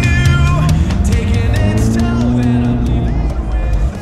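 A fire-damaged Ferrari sports car engine on its first drive, rumbling and revving steadily nearby, a loud throaty drone with rising harmonic whine throughout.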